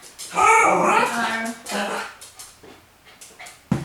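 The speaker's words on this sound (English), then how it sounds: "there's a mirror behind her, so she thinks there's another dog in the house" A dog indoors whimpers and barks at its own reflection in a mirror: close, high, wavering whines and cries that fade into shorter yips, ending in a sudden sharp bark.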